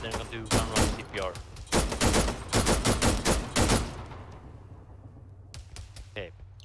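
Rapid bursts of aircraft cannon fire from a gun run in the military video game Arma 3, loud and dense for about four seconds before fading, with voices talking around it.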